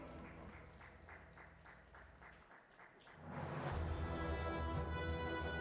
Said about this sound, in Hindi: तो तालियां बजती रहनी चाहिए।